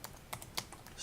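Keys tapped on a computer keyboard while a file name is typed, a few quick close clicks spread over about a second, alone and fairly quiet.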